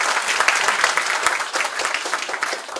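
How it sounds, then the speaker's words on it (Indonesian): An audience breaks into continuous applause for a speaker being introduced on stage, a dense, steady clatter of many hands clapping with no voices over it. "Tepuk tangan untuk beliau."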